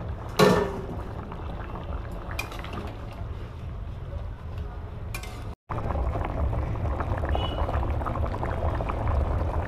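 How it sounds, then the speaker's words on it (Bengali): Egg curry gravy bubbling in an uncovered pan, a dense continuous simmering burble close by, with a few sharp clatters of a lid or utensil early on and a brief dropout midway. "তো এখানে ঝোলটা ফুটে গেছে"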